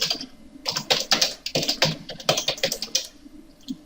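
Typing on a computer keyboard while working in AutoCAD, a close run of rapid, uneven key clicks in short bursts, with no talk over it.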